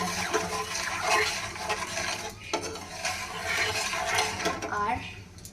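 A boondi batter is stirred in a bowl, wet scraping and sloshing sounds running continuously and close, with a few clinks of the utensil against the rim.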